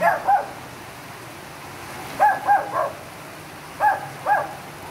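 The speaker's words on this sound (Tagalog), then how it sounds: "May narinig kayong aso." A dog barks in three short bursts of two or three yaps each, somewhat distant, over a steady hiss of rain.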